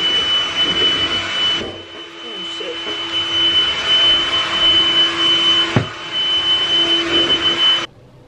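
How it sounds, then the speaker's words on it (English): A vacuum cleaner sucks up debris from a floor with a loud, steady whine that drops away briefly, rattles as something is picked up, and then cuts off near the end. "Now I'm vacuuming all this shit up."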